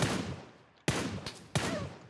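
Sniper rifle shots from an M24 landing a headshot in PUBG Mobile: three sharp, loud reports with short echoing tails, spaced under a second apart, with no one talking.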